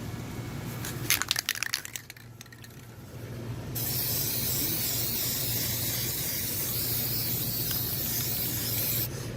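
Rust-Oleum spray paint hissing onto an old sanded dumbbell, a few sharp rattling shakes of the can first, then a long steady close spray hiss that cuts off near the end.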